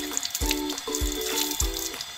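Water gushes out of a pipe at an areca nut nursery, a steady splashing flow with a pulsing surge roughly every half second, close and fairly loud.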